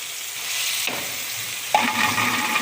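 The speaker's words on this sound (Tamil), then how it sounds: "அப்படியே இதையும் கொஞ்சம் வதக்கலாம் தக்காளி போட்டுக்கலாம்" Tomatoes sauté in a pan with green chillies, giving a continuous close hiss that jumps louder partway through as more goes into the hot oil.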